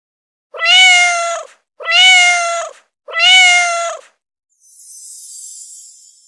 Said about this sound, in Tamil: பூனை, பூனை,